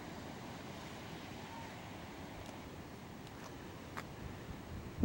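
Tide flowing into a small estuary behind a wildlife sanctuary on the California coast, heard as a steady, faint wash of water and wind noise with no clear individual waves.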